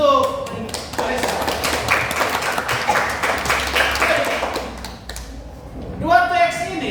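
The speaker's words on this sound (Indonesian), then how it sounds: "Tepuk tangan dulu untuk Alexa" An audience of students claps in a classroom, a dense and steady round of applause lasting several seconds before it fades. A voice cuts in at the start and again at the end.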